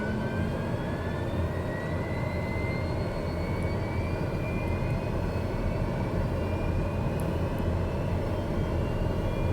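A TBM 850 turboprop engine lights and spools up on the ground, a loud steady roar with rising whining tones climbing across the whole stretch, with no talking.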